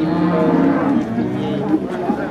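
Cattle moo at a livestock market in Paingan, Wonogolo, with one drawn-out bellow up close followed by lower, shorter calls and a faint murmur of market background.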